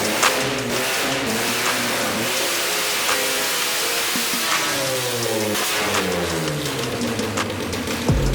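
Engine of a kei truck fitted with a custom Ford 8-inch rear end, revving hard on a dyno in a shop, loud and close with rising and falling engine tones through the run, no talking.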